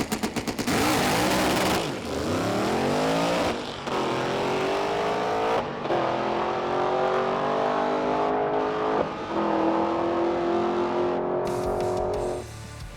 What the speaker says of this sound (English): I'd like to make one more pass, at least down the drag strip